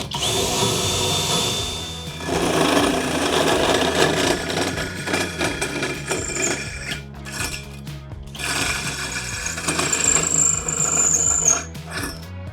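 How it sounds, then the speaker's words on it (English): A power drill driving a stacked hole saw cuts an angled notch into wood, a loud continuous grinding whir that shifts in pitch as the saw tilts, with brief pauses around the middle and end. "And then once we have where we need to drill, then we're gonna tilt our drill upwards."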